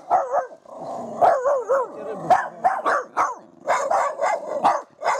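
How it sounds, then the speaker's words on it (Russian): A Jack Russell terrier barks repeatedly at an outdoor fishing spot near Voronezh, a string of sharp, close yips and barks arriving in quick uneven bursts, loud and clear over the surroundings. "Собака."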